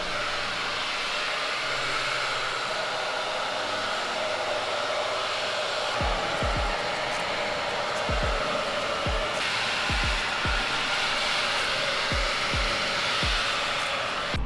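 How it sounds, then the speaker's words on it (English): A hair dryer with a diffuser attachment runs steadily with a loud, constant whooshing hum, while repeated low thumps sound beneath it in the second half. "what you do is you hit your diffuser, you turn it on"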